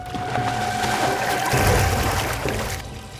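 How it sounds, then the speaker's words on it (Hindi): Water sloshing and pouring in a cold swimming pool, a continuous close, fairly loud wash that swells in the middle. "पानी की आवाज?"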